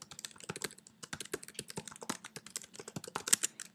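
Quick, uneven keystrokes clatter on a computer keyboard as a name is typed in at twitter.com, the clicks close and crisp with brief pauses between bursts.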